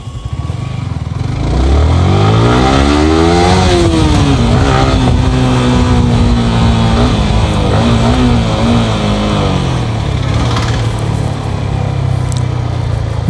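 A Yamaha R15 v3 motorcycle engine revs up loudly and close by, climbing in pitch, then holding and dipping through several sustained revs with no speech over it.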